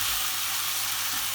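Fajita filling of chicken sizzles steadily in a hot pan while being stirred, a constant bright hiss with faint scraping underneath.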